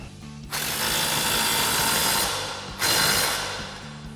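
A nut on a 2009-2018 RAM 1500 Belltech lowering kit being tightened with a 21mm socket and 22mm wrench, heard as two sustained bursts of a power tool whirring, each a couple of seconds long, close and loud.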